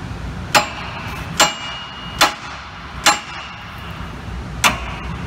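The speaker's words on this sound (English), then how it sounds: "Wrap on the knuckle with the hammer" Five sharp metallic hammer strikes on the steel steering knuckle of a 1999-2007 4WD GM truck at irregular intervals, loud and close, with a low background hum between blows.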